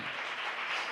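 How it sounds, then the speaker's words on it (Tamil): A church congregation claps in praise, a dense, steady wash of many hands at moderate volume filling the whole second with no voices. "நல்ல கைத்தட்டி ஆண்டவருக்கு நன்றி சொல்லலாமா?"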